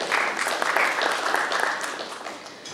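An audience at a brand launch event breaks into applause, dense overlapping claps at full strength that thin out and fade toward the end.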